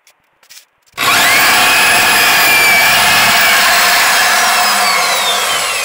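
A power drill bores into freshly set cement that is still damp, starting abruptly after a few faint taps and then grinding loudly and continuously up close.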